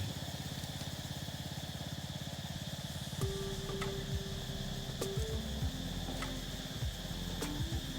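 A used Japanese Orec 14 hp riding lawn mower runs with a steady, close engine drone and a fast pulsing rhythm. Occasional tonal whines and clicks come and go over the continuous motor sound.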